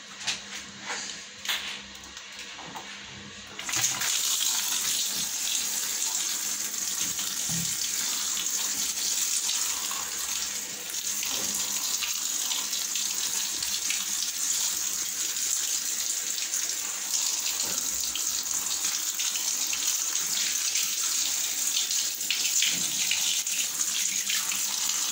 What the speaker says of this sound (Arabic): خلاص هنغسلها دلوقتي.